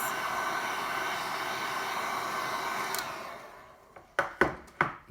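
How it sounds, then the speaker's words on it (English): A steady blowing hiss of a hot air gun used for fusing encaustic wax paint runs for about four seconds, then cuts off, followed by a few sharp knocks. "you're going to need a hot air gun or a heat source of some description"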